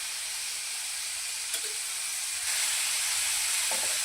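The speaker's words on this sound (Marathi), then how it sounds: "टमॅटो फ्राय करण्यासाठी अर्धा चमचा तेल ओतून घेऊया" Tomatoes fry in half a spoon of oil in a pan for a restaurant-style paneer curry, giving a continuous, even sizzle and hiss with a couple of faint clinks.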